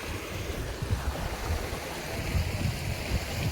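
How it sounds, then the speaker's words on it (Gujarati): Steady rushing river water flows continuously nearby, a broad even wash of noise with a low rumbling undertone and no voices. "તો ભાઈ આવું કંઈક પાણી હાલ્યું જાય છે આમાંથી"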